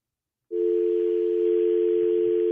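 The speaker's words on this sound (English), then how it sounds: "Oh, I got the phone dial." A steady telephone dial tone on a radio call-in line, switching on abruptly after a brief silence and holding loud and unbroken to the end.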